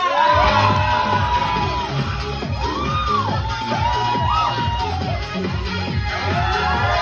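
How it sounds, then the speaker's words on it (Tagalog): A loud crowd at a Jollibee first birthday party bursts into applause, whoops and children's shouting, with the cheering rising and falling continuously, close and energetic throughout. "Parinda mo sa lakas na palakpakan na may kasamang sigawan!"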